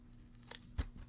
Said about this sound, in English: Those scissors are so good.